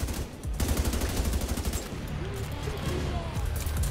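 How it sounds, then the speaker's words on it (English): Gunfire in The Division 2 as shots knock grenades out of the air, a dense, rapid burst of loud automatic shots under a low game soundscape. "Wait, I can shoot grenades out of the air?"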